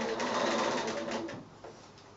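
A sewing machine free-motion stitches around the roof of a fabric bunting house made from strips, giving a fast, continuous whirr that tapers off toward the end.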